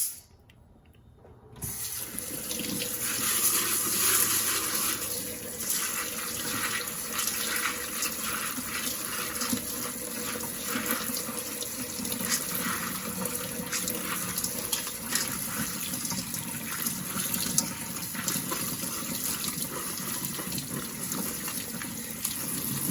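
Dried goji berries and dried hawthorn being rinsed under a running kitchen tap, a steady close gush of water that starts abruptly after a brief quiet moment and continues evenly with no talk.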